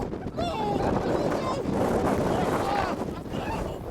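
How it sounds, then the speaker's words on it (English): Strong wind from a tornado storm roars and buffets loudly and continuously across the microphone, a dense rushing noise with faint voices partly buried beneath it. "The wind is so strong."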